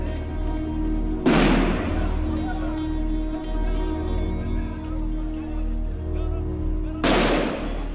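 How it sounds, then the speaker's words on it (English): Two sharp, loud stun grenade blasts, one early and one near the end, go off outdoors in a Palestinian street clash with Israeli soldiers, each a sudden broadband burst standing out over a steady background murmur and a low hum. "Israeli soldiers have kept the young Palestinians at bay with sound grenades."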